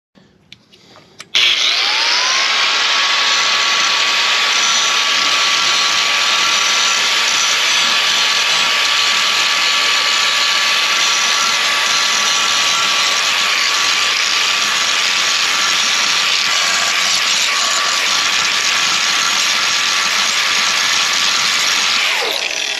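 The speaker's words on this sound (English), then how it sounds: "we could clamp it down and use the hand Milwaukee grinder" A Milwaukee hand grinder runs steadily while grinding metal for a trailer jack, starting with a loud spin-up and then holding a continuous high whine for about twenty seconds before winding down at the end.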